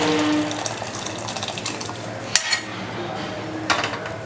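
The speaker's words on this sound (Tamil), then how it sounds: "இந்த பருப்பு தண்ணியை கொஞ்சம் சேர்த்துக்கிடுவோம்." Lentil cooking water pours into a pot with clinking kitchenware while making sambar, a steady wet rush close by, with a couple of sharper metallic knocks partway through.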